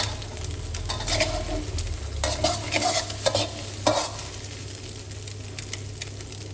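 Onion and garlic frying with egg in a pan for Thai glass noodle stir-fry, loud sizzling with repeated scraping and clattering spatula strokes, busiest in the first four seconds, then a steadier hiss, no voices.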